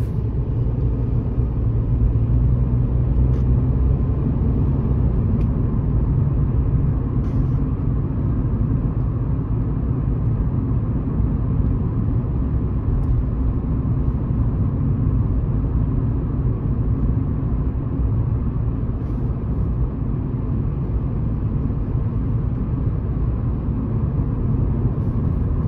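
A car's engine rumbles steadily from inside the cabin as it drives a practical driving-exam route, accelerating toward a 70 km/h limit; a loud, continuous low drone with road noise and no talking.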